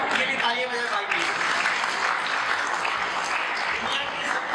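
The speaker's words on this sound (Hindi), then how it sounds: "ये भी तालियां बजाए भाई की।" Steady applause from an audience at a product training session in Shimla, continuous and moderately loud throughout, with a faint murmur of voices underneath.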